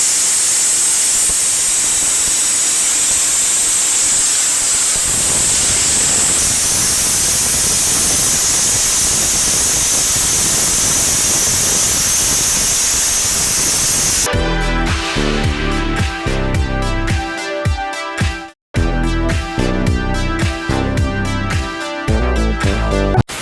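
A spray gun lays Zircotec ceramic coating onto a motorcycle screamer exhaust pipe, making a loud, steady, close hiss for about fourteen seconds before music takes over.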